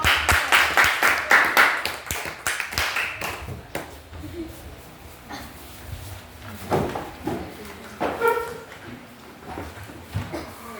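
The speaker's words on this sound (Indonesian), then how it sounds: "Kita kasih tepuk tangan untuk" Classroom audience applause after a group presentation, starting with brisk, loud clapping that quickly thins out into scattered claps and room noise, with voices murmuring faintly.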